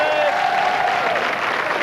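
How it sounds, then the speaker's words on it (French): Studio audience applauding a contestant on the French television game show L'or à l'appel, dense steady clapping throughout with a voice briefly audible alongside it. "Quelques applaudissements pour Isabelle"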